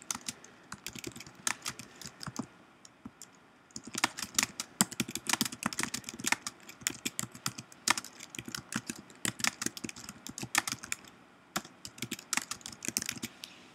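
Rapid typing on a computer keyboard, with dense bursts of close key clicks, a brief lull near the start, then steady clattering keystrokes that continue to the end.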